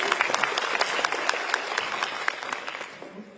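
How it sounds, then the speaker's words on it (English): Hearty applause from a crowd at the opening ceremony of the Taiwan Dermatological Association annual meeting, dense and steady with sharp claps, then fading out at the end. "Let's give a big applause to Professor Lan, please."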